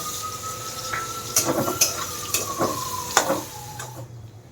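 Chopped onion frying in a pan while cooking dhaba-style chicken keema, a steady sizzle with scattered clinks and scrapes of a utensil, close and continuous before tailing off at the end.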